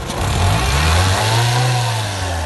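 A used car's engine revs hard under acceleration, a loud, steady low roar that rises and holds in pitch throughout, heard alone without talk.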